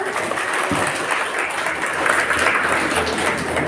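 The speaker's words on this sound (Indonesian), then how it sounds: "Tepuk tangan" Steady applause from a gathered audience at a children's Quran quiz competition, broad and continuous clapping holding at an even level throughout without letting up.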